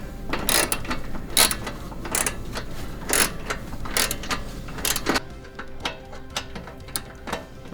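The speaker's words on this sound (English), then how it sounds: "then put a little bit of torque on it with our ratchet." A hand ratchet clicks in quick, evenly spaced bursts while snugging heat shield bolts on a Mitsubishi Evo X firewall, crisp close metallic ticks that slow and soften toward the end.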